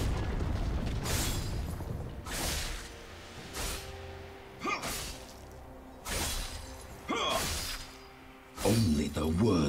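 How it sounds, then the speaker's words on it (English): A turret being destroyed in League of Legends during Zed gameplay, heard as a series of loud, sharp crashing bursts and shattering impacts spaced a second or two apart amid game sounds, with an announcer-style voice speaking. "Your team has destroyed a turret."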